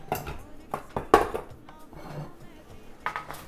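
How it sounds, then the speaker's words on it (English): Vegetables for a roasted sweet potato curry dropped onto a foil-covered sheet pan, giving a few separate crinkly thumps and rattles close by, with quieter handling noises between them. "I just covered a sheet pan in foil, and what we're gonna do is we're just gonna drop the veggies right on there."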